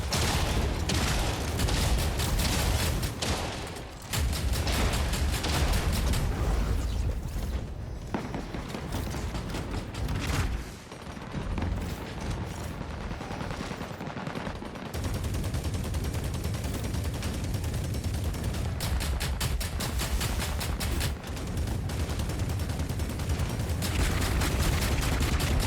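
Weapons firing continuously in the mech shooter Hawken Reborn, a heavy, dense barrage of rapid shots and booms lasting throughout with only brief dips, loud and close.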